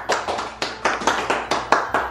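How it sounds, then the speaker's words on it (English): Sharp hand claps, about ten in an even, steady rhythm, close and fairly loud with no voices. "Everyone give yourself a round of applause."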